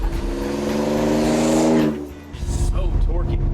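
A restomod 1955 Ford F100 pickup pulls hard, its engine droning and rising through the revs before a gear change brings a brief dip and a turbo blow-off hiss, then the engine climbs again, loud and close.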